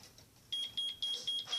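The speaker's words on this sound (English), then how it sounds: "There it goes. There's your alarm." A Five Below colour-changing LED digital alarm clock sounding its alarm: a series of five short, shrill electronic beeps in quick regular succession, moderately loud against a quiet room.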